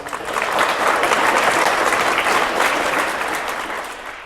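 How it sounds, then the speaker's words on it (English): Audience applause at a primary school presentation day for award-winning students, a dense, steady wash of clapping from a large crowd that swells quickly, holds for about four seconds and begins to taper at the end. "Can we please give these students a round of applause?"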